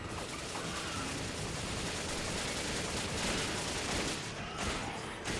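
Sustained gunfire at a boss in Resident Evil 5, a dense continuous volley of rapid shots blurring into a steady roar at moderate, fairly distant loudness, with no voices over it.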